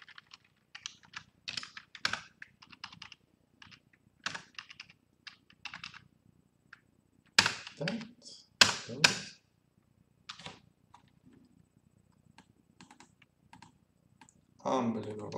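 Computer keyboard typing in bursts of quick clicks, loud and close, with pauses between runs and a short louder flurry near the end; a voice speaks intermittently between the keystrokes.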